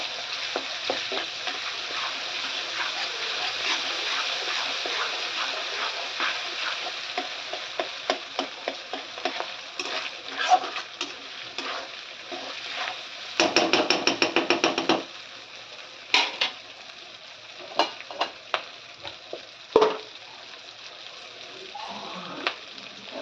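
A palak (spinach) mixture being stirred in a pan, steady sizzling with quick rhythmic scrapes and clacks of the spoon, a flurry of heavier stirring midway, close up and without speech.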